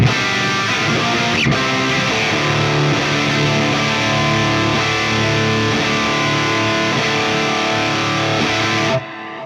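Electric guitar played through a TONEX boost pedal with a compressor engaged, a loud, dense, sustained distorted tone ringing steadily for about nine seconds before cutting off abruptly.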